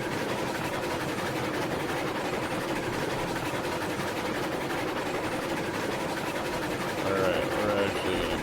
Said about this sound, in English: The Heisler is so loud.